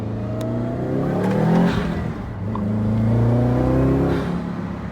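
Turbocharged Subaru fitted with a Perrin turbo inlet accelerating hard from inside the cabin, engine drone climbing steadily in pitch through two pulls with a brief dip between, loud and continuous with no talking.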